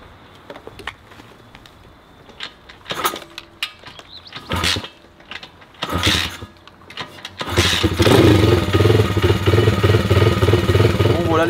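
A Bastos BSC 140 motorcycle from 2023 starting up with a few cranks and sputtering bursts, then settling into a steady, loud, close idle to warm up.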